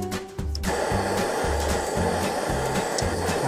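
A gas torch roars steadily while annealing a metal coin blank for ring making. The blast is loud, continuous and alone, with a low rhythmic pulsing underneath.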